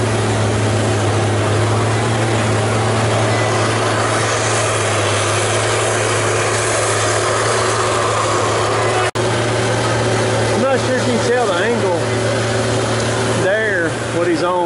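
A Tigercat 726E forestry machine works a steep wooded hillside, its wheels spinning for grip. The engine drones loud and steady throughout, with a sharp knock partway through and rising, straining tones near the end.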